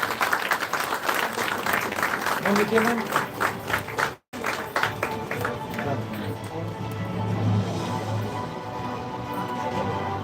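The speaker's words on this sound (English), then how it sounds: "Please give them a big round of applause" An audience applauds at an International Women's Day celebration after a speech competition on leadership and gender. Steady clapping runs throughout under voices and crowd noise, with a brief dip in the middle.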